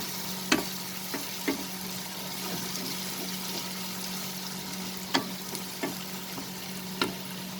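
Onion fries with a low steady sizzle in a pan while a utensil stirs, scraping and knocking against the pan in a few sharp, scattered taps.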